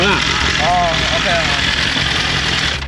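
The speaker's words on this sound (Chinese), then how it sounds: "就怠速的 声音" A BMW S1000RR M superbike with carbon-fibre wheels idles close by, a steady loud engine drone running throughout, with people talking over it.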